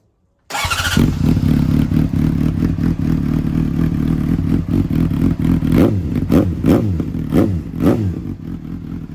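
A Honda CBR 600RR sport bike fitted with a DPM carbon racing exhaust starts up after silence, then idles with a loud, close rumble before a series of sharp revs near the end.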